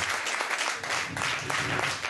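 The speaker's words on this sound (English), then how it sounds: "Thank you for your kind applause" An audience applauds steadily in a continuous wash of clapping, moderately loud, with no other sound over it.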